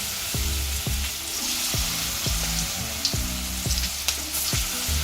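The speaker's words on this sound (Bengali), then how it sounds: "তেল গরম হয়ে গেলে এবারে যেগুলো আমরা গড়ার মতো গোল পাকিয়ে নিলাম সেগুলো এরকম তেলে ছেড়ে দিতে হবে" Green banana kofta balls drop one after another into hot oil, each landing with a soft thud that sets off a bubbling burst within a continuous, close, loud sizzle.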